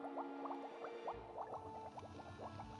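Potion brewing in the Minecraft Bewitchment mod, a steady bubbling liquid with rapid popping blips over a continuous tonal hum, moderately loud and without talk.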